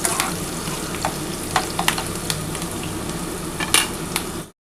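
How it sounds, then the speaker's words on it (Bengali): Onion frying in a pan for a Bengali tangra fish curry, a continuous close sizzle punctuated by sharp clinks and scrapes of a utensil against the metal pan, no voices. "পেঁয়াজটা কিন্তু আমার ভাজা হয়ে গেছে"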